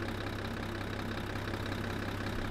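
Deutz Fahr Agro XXL tractor engine idling in Farming Simulator 17, a steady low diesel drone with an even rumble throughout, alone and at moderate level.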